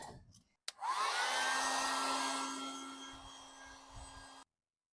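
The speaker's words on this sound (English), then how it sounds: "I've seen some people use a heat gun to loosen that up." A heat gun blows steadily on a 1983 Honda GL650 motorcycle part to loosen it, starting with a click and then a close, loud airy whoosh with a faint whine that fades slightly before cutting off.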